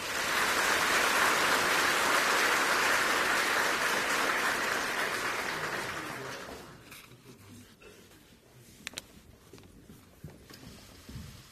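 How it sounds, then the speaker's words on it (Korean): Staff of the Financial Supervisory Service give a welcoming round of applause at a new governor's inauguration ceremony; the dense clapping holds strong for several seconds, then tapers off into a quiet room with a few scattered claps. "임직원 여러분께서는 의장님을 박수로 맞이해 주시기 바랍니다"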